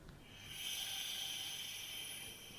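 A steam device hisses after its on-off valve is opened, a steady, close, airy hiss that swells in and holds evenly before easing slightly, with no voices over it.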